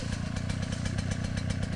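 Small dirt bike engine with a faulty carburetor running at a close, steady idle, a rapid, even putter that continues throughout without speech.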